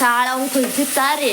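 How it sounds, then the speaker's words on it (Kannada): Whole spices for tempering sizzle in hot oil for a potato curry, with a crisp, steady frying hiss and stirring under a voice speaking throughout. "ಅದ್ರಾಗ ಒಗ್ಗರಣೆ ಕೊಡಕ್ತಾರೆ"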